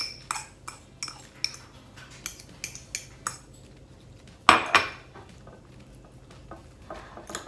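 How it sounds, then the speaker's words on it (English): Egg mixture is stirred in a dish for a brioche bun breakfast, producing a run of crisp, evenly spaced metal-on-dish clinks, then a louder clatter followed by quieter scraping. "give it a quick stir around, and then pour it all over the top of your brioche bun"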